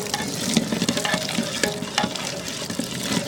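Gram flour batter is poured into a pot of simmering tapioca masala, giving a close, busy bubbling and sloshing with stirring scrapes and liquid splashes throughout, with no talk.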